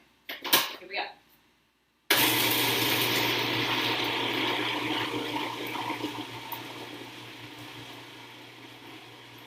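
A blender purees garlic with olive oil in a continuous, loud, close whirring grind that starts abruptly and slowly fades. It follows a couple of brief clattering sounds and a short pause.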